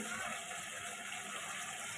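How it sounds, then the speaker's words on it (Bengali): A small splash of water poured into a cooked-down spice mixture in a pan, giving a steady, close, hissing pour that lasts about two seconds with no talking. "অল্প একটু পানি দিয়েছি"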